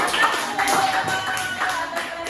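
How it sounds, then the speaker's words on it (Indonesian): An audience in a university classroom claps for a group presentation, producing a short burst of brisk, fairly loud applause that holds steady for a couple of seconds. "Beri tepuk tangan untuk"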